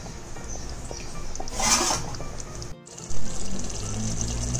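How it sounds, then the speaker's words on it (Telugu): Water pours into a pot of country chicken curry, a close splashing gush swelling briefly in the middle amid a low background hiss, followed by a short gap and a thud. "చికెన్ ఉడికిన తర్వాత మనకు కర్రీకి సరిపడ వాటర్ ని వేసుకుందాం."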